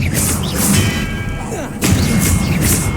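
The Expelliarmus spell is cast in the Hogwarts Legacy video game, a loud burst of booming impacts and magical whooshes, followed by a second heavy crack a moment later.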